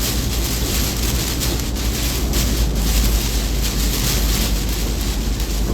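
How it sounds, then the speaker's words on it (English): Hurricane Idalia's wind gusting hard and steadily near Valdosta, a dense roaring rush battering the microphone with no break, loud and close throughout. "just received a 65-mile-per-hour wind gust"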